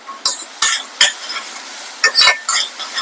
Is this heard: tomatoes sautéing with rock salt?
yes